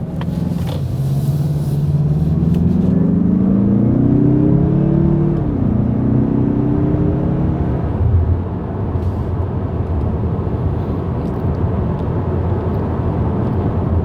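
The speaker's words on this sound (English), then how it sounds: "And it has no problem accelerating." A 2021 Mazda CX-30 AWD Turbo accelerates, its engine note climbing in pitch for several seconds and then dropping back into a steady loud road and wind rumble, heard from inside the cabin.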